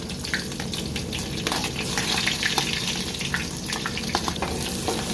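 Onions sizzle and crackle in hot oil in a pan on a stove, a steady close frying hiss with a few stirring clinks and no talking.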